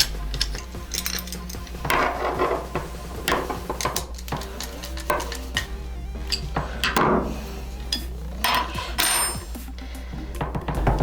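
Bolts being tightened while a Mustard Bikes tail tidy is fitted to a 2024-onward KTM Duke 390, heard as close metallic clinks, ratcheting and tool clatter in irregular bursts over a low steady hum, with no voices.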